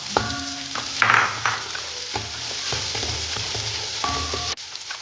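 Sliced onions for chicken biryani sizzle in a pan while a utensil stirs and scrapes them, with a few metal clinks against the pan over the steady frying hiss, close by.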